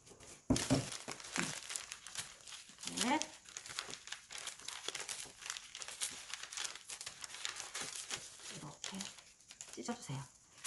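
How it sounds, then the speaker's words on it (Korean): Korean mulberry paper is torn by hand into long strips about a centimetre wide, giving repeated dry crinkling and ripping bursts close up, with a person talking over it throughout. "1cm 간격으로 끝까지 쭉 한번 찢을게요"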